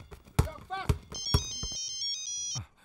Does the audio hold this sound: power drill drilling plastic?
no